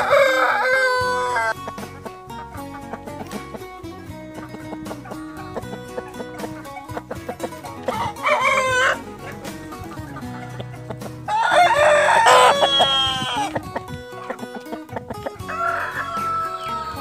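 Roosters crow in long, loud calls several times close by, with clucking between the crows from a flock of fowl, and no talk over them.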